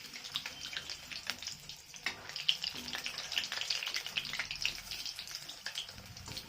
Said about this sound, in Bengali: তবে ভেতর পর্যন্ত কড়কড়ে ভাজা হবে